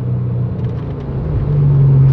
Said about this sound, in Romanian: Mașina se aude excepțional,